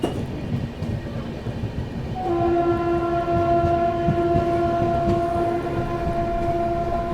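The 12417 Prayagraj Express runs at high speed with a loud, steady rail rumble, and a sustained multi-tone horn cuts in about a third of the way through and holds to the end.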